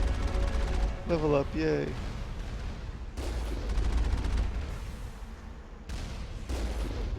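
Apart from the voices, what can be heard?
heavy turrets firing in the video game Mass Effect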